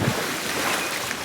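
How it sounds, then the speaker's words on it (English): Water gushes from a burst water main on a street, a steady, loud, roaring whoosh that holds unbroken throughout with no voices. "The water went on gushing with a swooshing"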